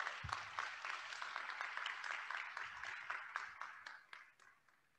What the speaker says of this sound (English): We'll give those a round of applause.